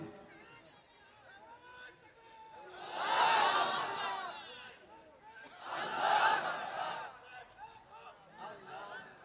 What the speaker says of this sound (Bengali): একজন স্লোগান দিচ্ছে